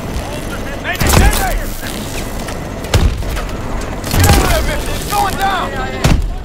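Suppressing gunfire in the Call of Duty: Advanced Warfare warship battle, heard as several heavy bursts and booms spaced a second or two apart over a constant rumbling battle background, with voices talking in between.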